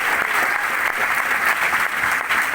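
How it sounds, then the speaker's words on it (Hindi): Loud, sustained applause from an audience at a business lifestyle seminar, a dense continuous wash of clapping that fills the room evenly from start to finish. "जोरदार ताली चाहूंगा"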